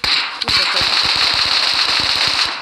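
Rapid automatic gunfire from an ASM Abakan rifle in PUBG Mobile, a fast steady burst of sharp shots running for over two seconds, loud and close with a bright ringing tone behind it.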